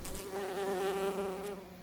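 A honeybee buzzes steadily and close by while foraging for pollen, a continuous droning hum that holds nearly level for about two seconds.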